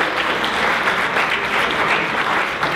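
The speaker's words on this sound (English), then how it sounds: "Let's give them a round of applause." An audience at a breast cancer awareness event claps loudly and continuously in a dense, even burst of applause, close and without speech.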